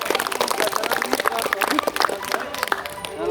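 A group of students claps hands at the close of a school athletics shot put session, a dense, brisk patter of many hands under talk and murmuring voices.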